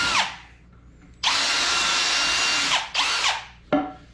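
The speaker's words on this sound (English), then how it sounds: "I like to pre-drill my screw holes so I can get the tightest fit." A power drill pre-drills angled screw holes in wood for a sawhorse leg, running in loud, steady bursts of about one and a half seconds, then shorter ones, with clear motor spin-ups and wind-downs between, close by and alone.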